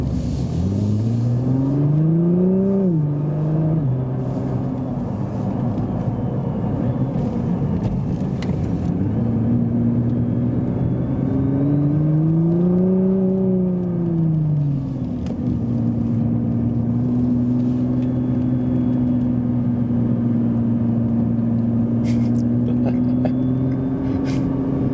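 A facelifted 570 hp Nissan GT-R drives up a hill, its engine droning steadily from the cabin and rising and falling in pitch through gear changes and throttle swells.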